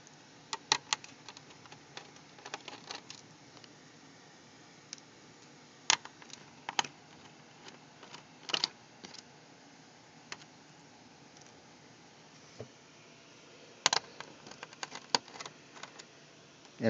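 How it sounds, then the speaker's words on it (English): Screws being taken out of an HP DV7 laptop during disassembly, heard as faint, scattered clicks and ticks of a screwdriver on plastic, spaced irregularly over a quiet background. "So we're going to go ahead and remove these screws from the laptop."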